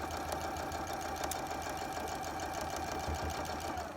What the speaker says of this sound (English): Go ahead and sew an accurate 1/4 inch